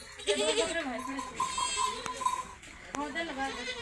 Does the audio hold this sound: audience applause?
no